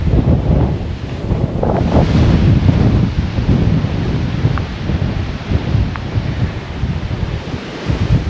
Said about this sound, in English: Here come the winds.